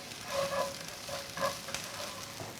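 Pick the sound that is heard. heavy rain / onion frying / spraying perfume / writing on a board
onion frying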